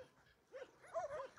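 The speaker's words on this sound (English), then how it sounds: "More than 25 dogs inside." Several dogs housed together in an animal shelter let out short high whimpers and thin yips, a quick cluster of whiny cries close by, rising in the second half.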